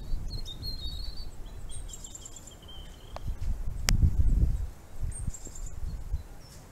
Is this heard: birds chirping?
yes